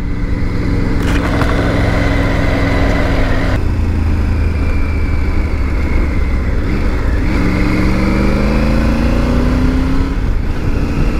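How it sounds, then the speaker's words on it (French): A Triumph Tiger 900 GT motorcycle engine revving, loud and close, with a rough idle that rises through rev sweeps, drops back, then climbs again in a rising whine. "les montées en régime sont sympas"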